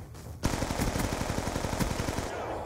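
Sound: pistol gunfire in video game Call of Duty Black Ops 2

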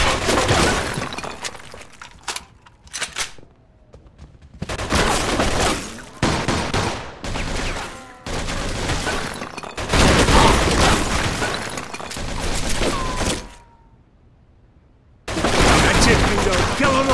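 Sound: gunfire and breaking glass in Mafia 2 video game

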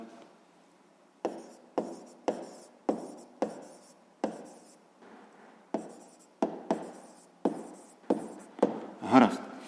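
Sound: writing math solution on paper

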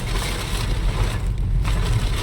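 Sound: heavy rainstorm on a car on the road

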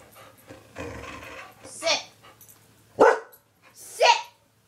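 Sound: dog barking in Minecraft video game

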